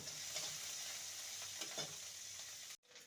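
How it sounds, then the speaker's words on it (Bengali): Salted ginger fries and spits in a pan for a bitter gourd dish, a faint steady sizzle with a few light scrapes before it cuts off sharply near the end. "আদাটাকে ভালো করে কষিয়ে নেব"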